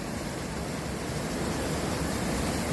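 Water rushes near a forest, heard during a stop on a short motorcycle trip. The flow makes a steady, even hiss at moderate loudness and stays constant throughout.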